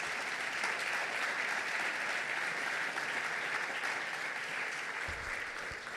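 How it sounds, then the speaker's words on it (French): Sustained applause from a conference audience greeting a newly appointed delegate general at a national renewable energy colloquium, dense and steady throughout without pause. "Je pense qu'il mérite des applaudissements."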